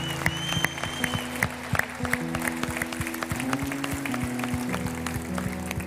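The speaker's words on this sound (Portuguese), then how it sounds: "Vamos aplaudir o Rei dos Reis." A church congregation applauding in a burst of rapid, irregular claps, with tonal music ringing underneath throughout.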